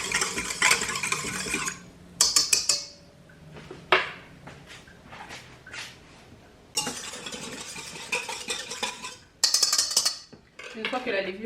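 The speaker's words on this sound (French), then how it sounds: "Et je vais mélanger." A spoon stirs a warm milk and water mixture in a bowl, making repeated scraping and clinking against the bowl in bursts. Close and moderately loud, with no speech over it.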